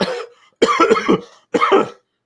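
Three rough, close coughs, one trailing off and then two sharp bursts separated by short pauses, with no talking.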